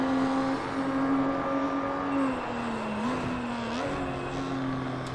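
Race cars lap the Sepang circuit during practice, a loud sustained engine drone that rises and dips through gear changes as cars pass, steady throughout with no talk.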